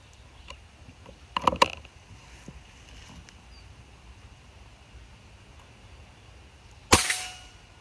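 A Bocap Mini Combat 500 cc air rifle fires a single sharp, loud shot near the end, following some faint handling clicks and a brief clatter earlier in a quiet outdoor setting.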